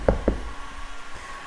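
Two quick, dull knocks on the door panel of a Lada Granta fitted with a new car audio system, close and solid, followed by quiet room tone.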